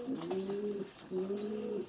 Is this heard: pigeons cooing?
yes